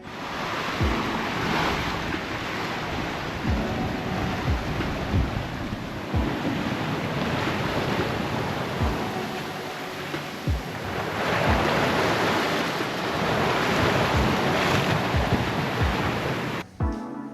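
Sailboat running downwind in 12 knots of apparent wind, with steady rushing waves and surf, heavy wind buffeting the microphone, and water washing past the hull, loud and continuous.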